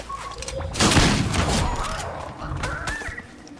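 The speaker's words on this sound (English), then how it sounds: "somebody's shooting" Gunfire in a video game: a dense rattling burst of shots early on, then scattered reports fading under the general game noise, with players' voices faintly present.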